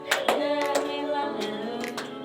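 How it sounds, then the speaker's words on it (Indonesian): Students standing in a primary-school classroom clap their hands in a steady rhythm while singing a song together, the sharp claps spaced regularly over the voices. "Sambil tepuk tangan."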